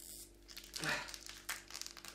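A plastic snack bag from an Advent calendar crinkles and tears open in a quiet room, with a short burst of rustling followed by lighter crackles.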